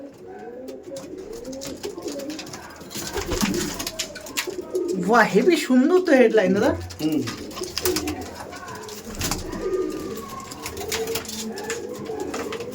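Andhra pigeons in a loft room coo throughout in low, rolling murmurs, with a voice talking over them and a louder burst of calls midway.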